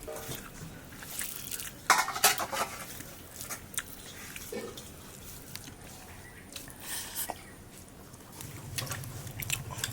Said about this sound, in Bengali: খেয়ে দেখলাম টেস্ট করে কীরকম লাগছে